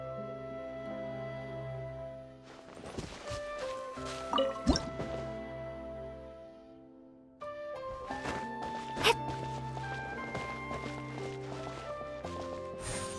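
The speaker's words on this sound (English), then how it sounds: "Wow, another water droplet just came out from the wall!" A water droplet squeezes out of a wall in the Genshin Impact video game, making wet, squishy drips and splashes amid chiming game music and effects, with no speech.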